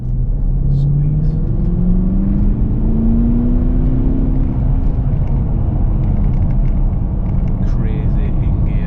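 A remapped Porsche Cayenne 4.2 TDI V8 diesel accelerates hard in gear, a loud, deep droning rumble from inside the cabin with engine pitch rising steadily over several seconds.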